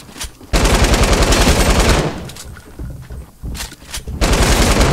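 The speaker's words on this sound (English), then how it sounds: "Who's shooting already? Me." Gunfire in a shooter video game, long loud bursts of rapid automatic fire with brief gaps and shorter volleys between, close and dominant with no talk over it.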